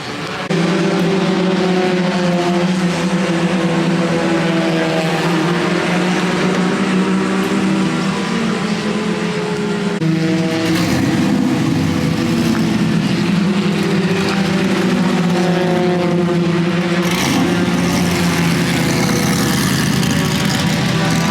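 Pro truck race cars run at New Smyrna Speedway, heard as a loud, sustained engine drone with shifting pitch and a brief surge partway through, continuous throughout with no voices.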